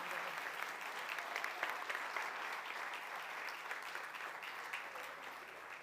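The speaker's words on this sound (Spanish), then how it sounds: "Denle un fuerte aplauso a todas estas neuronas" A church congregation applauds in a steady, continuous wash of many hands, moderately faint and even in level, easing slightly toward the end.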